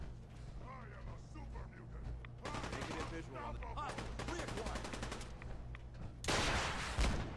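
Rapid bursts of automatic gunfire in Fallout 4 VR crackle over a steady game background, with repeated volleys and a louder blast near the end; someone talks between the shots.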